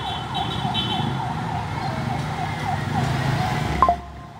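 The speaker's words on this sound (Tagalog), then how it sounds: "May isa pa nga fire truck." A fire truck siren wails in a steady rising and falling pattern over a constant rumble of traffic, with a brief sharp clank near the end.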